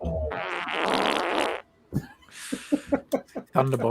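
Fart sound effect from the Thunderbox, an add-on in a building video game, a loud sputtering burst followed by a short airy hiss and a string of quick popping bursts, with no voices over it.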